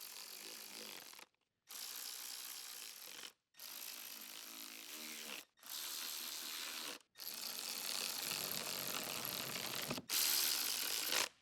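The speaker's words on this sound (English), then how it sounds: "use an 8 mm deep socket with a long extension bar, adapter, electric ratchet. Tighten the intake manifold retaining bolts." Electric ratchet tightening the intake manifold bolts on a Jeep Wrangler through a deep socket and extension bar, heard as six steady runs of rapid clicking separated by brief silences, close and fairly quiet.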